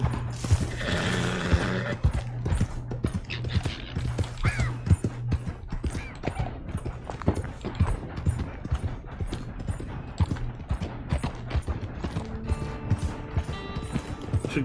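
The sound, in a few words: horse hooves and whinny in video game Red Dead Online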